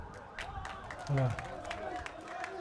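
A welcoming crowd along a motorcade route greets arrivals with scattered applause, ululation and cries; sharp claps ring out over a steady crowd din, with a brief low vocal burst midway and talk running throughout.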